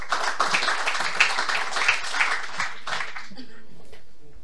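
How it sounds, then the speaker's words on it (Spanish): Audience applause at a BIM and 3D scanning conference session in Valencia, a dense burst of many hands clapping for a few seconds that thins out and fades near the end. "Un aplauso, por favor."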